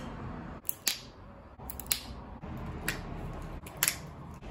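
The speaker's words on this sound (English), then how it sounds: "They make this super satisfying popping noise when you crack them." Acorn shells being cracked open by hand, giving several sharp, crisp pops spaced irregularly, each a short bright snap over a quiet, close background.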